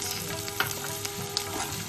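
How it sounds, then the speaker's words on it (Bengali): Chopped onion and green chilli frying in hot oil for a Bengali fish kachori filling, giving a close, steady, crackling sizzle with a few faint stirring taps, no talking. "তেল গরম হয়ে গেছে আমি কুচনো পেঁয়াজ আর কাঁচা লঙ্কা দিয়ে দিচ্ছি"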